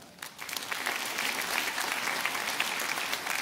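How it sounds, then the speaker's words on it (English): Concert-goers at a Boardman High School jazz performance break into applause, which swells quickly from a quiet start into steady, full clapping that carries on to the end. "Give them a round of applause."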